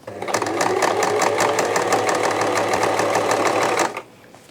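A sewing machine runs a basting stitch along a folded hem, a fast steady mechanical whir with rapid needle clatter for about four seconds before stopping abruptly.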